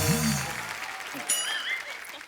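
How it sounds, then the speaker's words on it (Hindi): A studio audience at the Kapil Sharma comedy show breaks into brief applause right after a voice at the start, the clapping continuing under light background chatter. "जोरदार तालियां टाइगर भाई के लिए"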